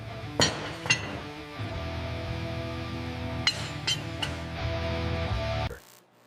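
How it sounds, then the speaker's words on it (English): Heavy metallic clinks and clanks of engine parts ring out at irregular intervals over a steady musical backdrop, with a few sharp knocks standing out, during teardown of a flood-damaged BMW X3. "Sound of heavy metal clinking and music."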